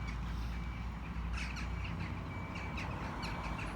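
Starlings call as a group, with clicks, whistles and rasping notes coming in bursts over a steady background hiss of wind or distant noise.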